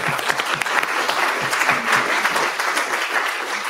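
A conference audience at the BOSC2024 opening remarks breaks into loud, sustained applause for a platinum sponsor, a dense wash of clapping lasting several seconds.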